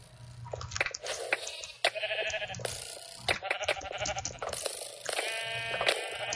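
Sheep in the video game Minecraft, on the Mineplex server, bleat again and again amid busy game sounds of clicks, crunches and footsteps, with the bleats overlapping and tumbling over one another.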